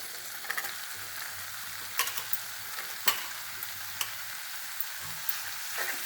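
Grated ridge gourd hitting hot oil with tomatoes in a pan gives a steady close sizzle, with occasional sharp spatula scrapes and taps against the pan, and no talking.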